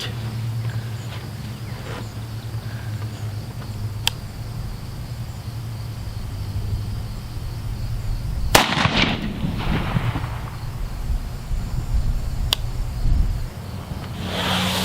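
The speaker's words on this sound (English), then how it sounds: "now we're going to be shooting the target on the right" Rifle firing 55 grain 5.56 non-match ammunition at a target on an outdoor range, a few sharp reports spaced seconds apart over steady background hum and insect noise.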